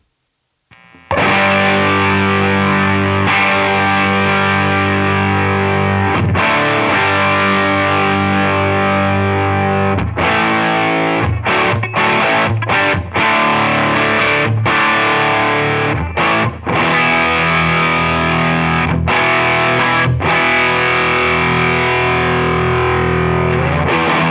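A Les Paul electric guitar played through a Ramble FX Marvel Drive distortion pedal, giving a loud, thick, saturated tone with sustained chords and a few choppy breaks, heard alone without talk.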